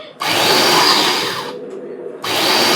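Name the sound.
mixer grinder grinding ingredients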